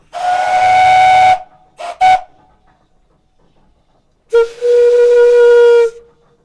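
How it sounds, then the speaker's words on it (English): A steam donkey engine's whistle blows loudly, steam from a wood-fired boiler: one long blast, two quick short toots, then another long blast with a slightly deeper pitch, with silence between. "It carries a variety of whistles on it"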